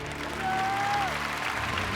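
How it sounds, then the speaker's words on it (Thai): Studio audience on a Thai code-breaking game show applauds a champion, steady clapping throughout with a brief tonal sound and faint voices underneath. "ขอเสียงปรบมือดังกับนะแชมป์หนึ่งสมัยของเรา"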